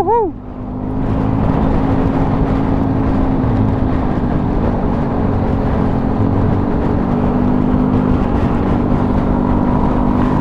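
Yamaha automatic scooter running on Yamalube oil pulls away on a bypass road near Suramadu, Madura, engine drone rising then holding steady under heavy wind rush, close and loud throughout.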